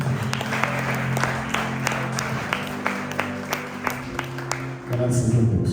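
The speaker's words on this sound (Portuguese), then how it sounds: "Aplauda o Senhor." Church congregation applauding during a worship service, a dense steady clapping spread across the room with no clear pauses, sustained, with a droning tone underneath and a swell of sound at the very end.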